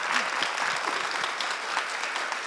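An audience at a panel event on media freedom and whistleblowers applauds in a dense, steady wash of clapping that is sustained and moderately loud from start to finish.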